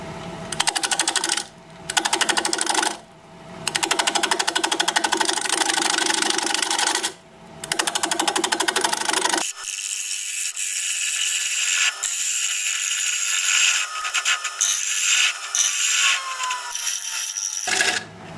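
Shear scraping on a wood lathe at about 740 rpm, a steady scratchy hiss with rhythmic ticking that cuts out briefly several times, then a thinner, brighter scrape with faint whining tones for the rest.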